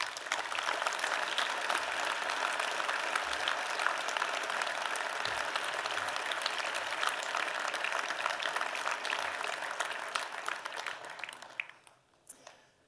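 A hall audience applauds a retiring town councillor during the mayor's 2020 New Year address in Voiron. The clapping is a long, thick, even roar that holds for over ten seconds and then trails off near the end.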